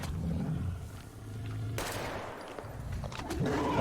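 Gunfire from a weapon in the video game Metro Exodus: a loud burst of shots breaks in partway through over a low, rumbling game backdrop and carries on steadily to the end.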